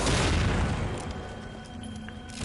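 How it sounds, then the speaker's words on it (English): An explosion in The Evil Within, played on AKUMU mode, opens with a loud, broad blast that fades into a low, lingering rumble. "if I'm not attracting anybody from that explosion"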